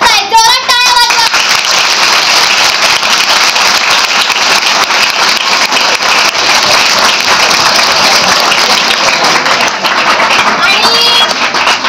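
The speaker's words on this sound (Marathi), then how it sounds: "जोरात टाळ्या वाजवा" Sustained crowd applause at a Savitribai Phule Jayanti and women's liberation day gathering, steady and dense throughout, with a few voices and higher child-like calls mixed in.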